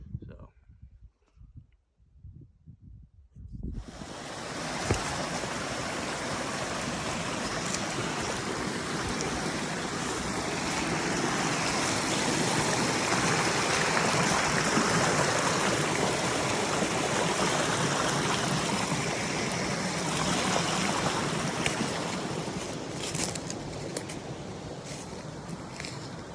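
Heavy continuous sloshing and churning of water as someone wades chest-deep through a flooded patch of northern Maine woods while tracking whitetail deer, loud and close after a quiet start.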